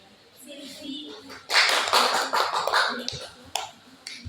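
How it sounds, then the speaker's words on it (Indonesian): A small classroom group applauding a student, a short burst of brisk clapping that starts suddenly, rattles for about two seconds and tapers into scattered claps, preceded by quiet speech. "Tepuk tangan bagi Silvi."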